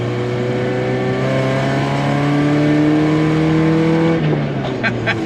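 A 1994 Ford Ranger on nitrous accelerating in second gear: a loud, close engine drone climbing steadily in pitch for several seconds, then easing off as the revs drop.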